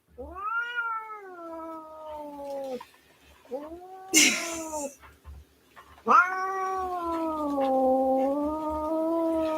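Angry tortoiseshell cat yowling in several long, drawn-out wavering caterwauls with short gaps between them, close and fairly loud, with a brief scuffing noise in the middle.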